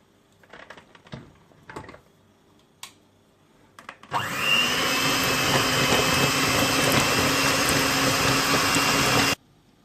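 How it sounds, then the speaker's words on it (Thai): An electric hand mixer starts up and beats fresh butter for a rice cooker cake, a loud steady whirring that kicks in after a few soft clinks and handling noises and runs evenly for several seconds before cutting off. "เตรียมผสม ตี เนยก่อนนะคะ"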